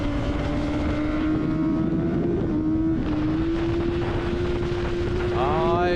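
Kawasaki racing motorcycle at an sARL club race blasting down the back straightaway, a steady high engine whine that rises slightly in pitch, loud and continuous, with a second rising tone joining near the end.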